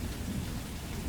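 Steady rain with a low rumble of thunder beneath it, a dense, constant wash of falling water at moderate volume, with no voices.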